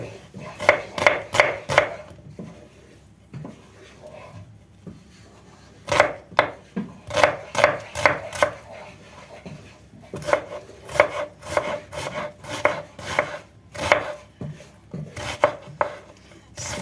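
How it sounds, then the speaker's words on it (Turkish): A knife chops dry onions quickly on a cutting board in rapid bursts of crisp taps, pausing between runs, close and clear with no talking. "şimdi kuru soğanımı doğruyorum"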